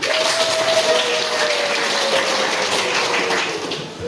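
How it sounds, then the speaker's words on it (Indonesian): A class of students applauds together in an economics lesson, a soft, even wash of clapping with a faint steady tone running underneath. "Tepuk tangan untuk kita semua"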